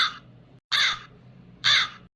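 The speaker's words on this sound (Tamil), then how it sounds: "காக்கா சத்தம் ஓவராலா இருக்கு." A crow caws three times, loud and nearby, each harsh call evenly spaced about a second apart over faint background hum.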